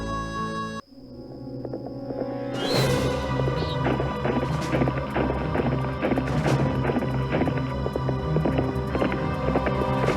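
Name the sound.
phantom horse galloping in Nancy Drew video game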